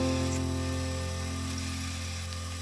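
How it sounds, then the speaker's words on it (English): A power drill slowly boring a large bit into box elder wood, a steady low motor hum with tonal whine held evenly for a few seconds, close and continuous. "Now onto our last drill. I think this is a 11 and it's quite big, so slow RPM"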